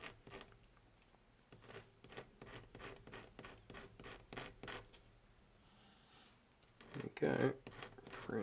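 Sanding a hobby model part for a large Gargant kit: a run of short rhythmic rasping strokes at close range, with a pause before a louder scrub near the end and quiet talk running underneath.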